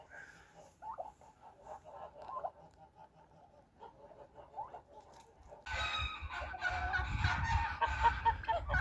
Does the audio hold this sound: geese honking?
yes